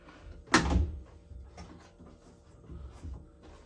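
A Camaro car door is handled during an engine swap build, giving one loud metallic clunk followed by smaller rattles and knocks nearby.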